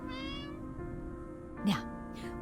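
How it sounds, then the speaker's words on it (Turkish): Cat meows in the video game Copycat, with a couple of short rising mews near the end over a steady tonal game music bed. "Miyavlayalım yine."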